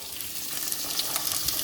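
Sliced onions sizzle in a pan on a home stove while a chicken curry cooks with garlic and ginger, a soft, steady frying hiss with faint crackles and no talking.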